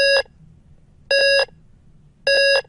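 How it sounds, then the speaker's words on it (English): Three loud electronic beeps, each a short sustained tone, spaced evenly about a second apart with quiet between them. "You see, it is just a beep"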